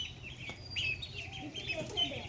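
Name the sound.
chickens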